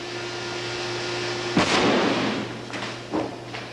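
Explosive charges detonating on a miniature model built for a film effects shot, a sharp blast followed by a rumbling burst and a second smaller pop over a steady hum.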